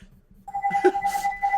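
A telephone rings in a room, a steady electronic bell tone that starts abruptly after a brief near-silence and carries on with faint background chatter.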